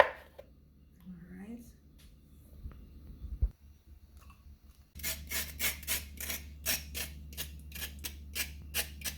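Skin is scraped off a carrot; after a few seconds of faint talking and handling noises, a run of rhythmic, raspy scraping strokes follows, close and moderately loud.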